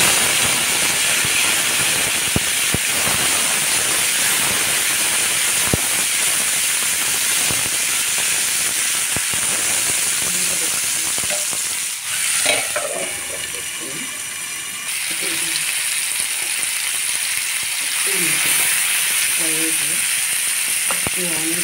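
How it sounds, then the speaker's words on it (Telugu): Onions fry lightly in a pan with green chilies for a sorrel-leaf chutney. A loud, steady hissing sizzle runs throughout, with occasional utensil clicks and a brief voice partway through. "ఈ ఆనియన్స్ వేసి కొంచెం లైట్గా ఫ్రై చేసుకొని"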